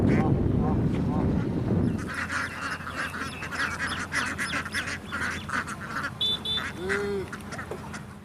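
Ducks on a duck farm quack and honk in a busy, overlapping chorus that fills most of the stretch, with a low rumbling noise at the start and faint talk mixed in beneath.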